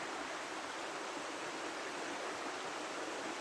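Rainforest river flowing past beneath tall palm trees, a steady broadband rush of water, continuous and even with no voices.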